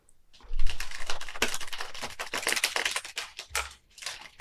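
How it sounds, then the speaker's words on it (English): A deck of tarot cards being shuffled during a psychic reading, giving quick flurries of crisp riffling and slapping close by, in short bursts with brief pauses. "So, wait, I got to try to shuffle them, right?"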